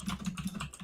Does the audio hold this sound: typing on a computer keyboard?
yes